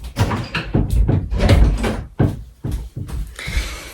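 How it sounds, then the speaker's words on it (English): An indoor door is pushed shut, giving a series of close knocks and thuds from handling, then a firmer bump as it closes, with a brief hiss near the end. "I just gotta close my door"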